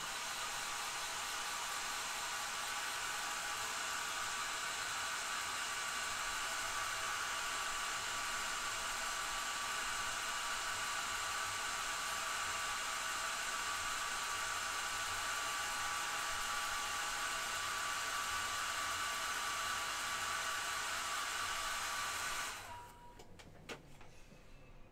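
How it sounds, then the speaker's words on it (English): A hair dryer runs continuously for about 22 seconds to dry paint on a miniature figure, a steady close rushing whoosh, then cuts off abruptly, leaving faint room noise. "Might as well just whip out the hairdryer."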